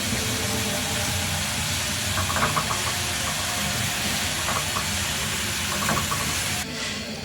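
Milk-based egg korma gravy simmering in a pan, giving a steady close hiss with faint bubbling ticks throughout and no talking.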